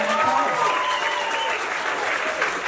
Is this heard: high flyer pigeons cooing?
no